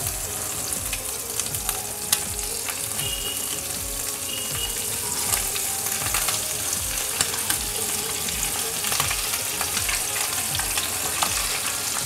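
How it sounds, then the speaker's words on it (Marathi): Mandeli fish fry one by one in hot oil on a flat tawa, giving a continuous close sizzle and spitting crackle with occasional scraping and clinking strokes throughout. "त्यात आता आपण एक एक करून मांडेली फ्राय करून घेऊया."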